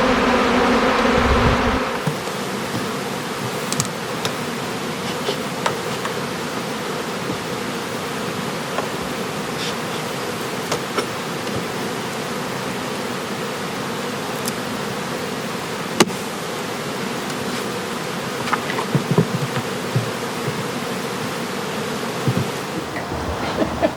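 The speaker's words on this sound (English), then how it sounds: "You can see all these bees are coming home." Honey bees returning to nuc boxes fill the air with a continuous, even buzz from many insects, steady and close for the whole stretch, with no talk.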